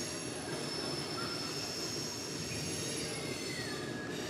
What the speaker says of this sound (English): Oh, the train.